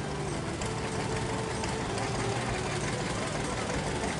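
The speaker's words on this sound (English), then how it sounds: "Here's a Farmall B" A 1946 Farmall B tractor rolls past at a heritage days parade, its engine giving a steady, loud low rumble and idle chug throughout, with crowd voices faintly underneath.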